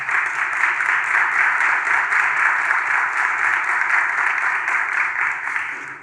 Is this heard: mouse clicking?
no